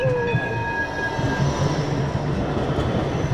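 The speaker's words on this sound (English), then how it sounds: "Here comes the tram." A Blackpool tram rolls past along the promenade, a steady rumble of wheels on rail with faint squeal, close and continuous over outdoor noise.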